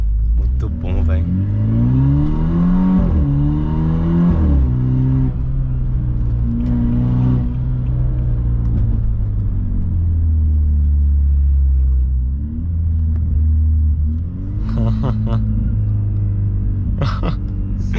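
A BMW 320i engine rumbles and revs steadily under loud, continuous in-car talk, the pitch rising and falling with acceleration throughout.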